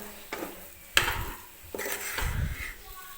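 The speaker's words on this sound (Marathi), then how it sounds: "तर व्यवस्थित मिक्स करून घेते मी." Moong dal halwa with sugar being stirred in a pan, a few scraping strokes of a spoon against the metal with soft thick mixing sounds, close and quiet.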